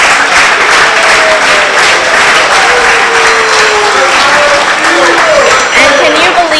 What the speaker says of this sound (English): everyone give a round of applause for our voters over here